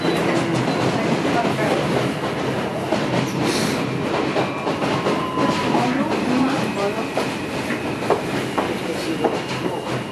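A New York City subway F local train rumbles along steadily, wheels clattering over the rails with broadband roar throughout, a brief high screech partway through.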